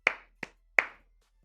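Three crisp hand claps from a football commentator at halftime, near and distinct, the first and last louder, with a short silence after.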